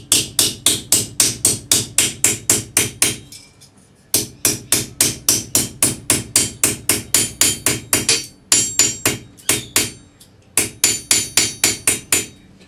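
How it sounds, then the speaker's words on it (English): Rapid, evenly spaced strikes of a jeweler's hammer flattening metal on an anvil, loud and close, in three bursts separated by brief pauses. "I'm using my jeweler's hammer for this"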